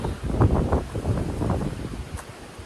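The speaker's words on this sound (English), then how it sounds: "Here's a gust." A gust of wind on a mountain trail through a grove of dead trees, roaring and rustling near the microphone with buffeting swells, then easing slightly toward the end.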